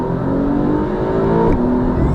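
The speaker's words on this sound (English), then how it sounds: "I'm going to press this button now and you'll hear the car." A Porsche engine revs hard during a turbo performance boost, a loud, steady, rising roar that holds throughout with a brief shift in pitch midway.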